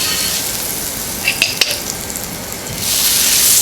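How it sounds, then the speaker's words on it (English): Butter sizzles and fries on a hot tawa, a steady close hiss with a few brief crackles mid-way that swells louder near the end. "so I'm going to butter the tawa"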